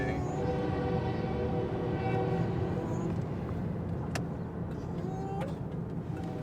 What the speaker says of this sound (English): Train. Choo-choo train.